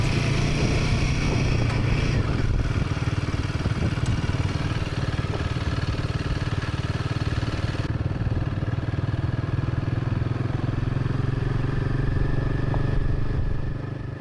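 A Royal Enfield Himalayan 450 motorcycle rides a dirt trail, its engine droning steadily and close throughout, with faint clatter and wind rush over the motor.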